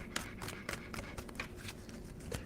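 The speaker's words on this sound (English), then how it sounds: "Give me 2 shuffles for Cancer." A tarot card deck is shuffled close up in a quiet room, a series of soft rapid riffling bursts and flicks in an irregular rhythm, fairly faint.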